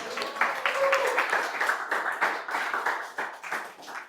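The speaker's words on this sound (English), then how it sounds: "A big round of applause." A live audience at a Toastmasters club meeting breaks into steady, dense applause for a member, the clapping sustained and fairly close throughout, with a faint voice briefly audible beneath.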